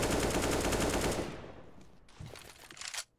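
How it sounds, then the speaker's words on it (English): Sustained rifle spray in a competitive CS:GO match on the Train map, a dense rapid burst of automatic gunfire that runs loud for over a second before dropping into quieter scattered shots. "Oh, spray flying against DZT will do a ton of damage."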